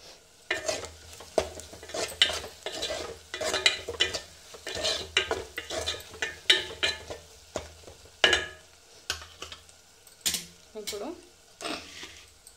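Chilli powder and salt being stirred in a pan with taro pieces nearby, heard as a series of rhythmic scraping strokes with a light sizzle underneath, close and moderately loud, with brief pauses between strokes.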